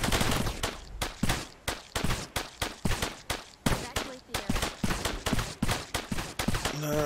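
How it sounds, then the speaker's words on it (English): Airstrike in Cepheus Protocol pounding the ground in a rapid barrage of loud, sharp explosive blasts, evenly spaced and repeating for several seconds, close and punchy. "Let's get the next airstrike in."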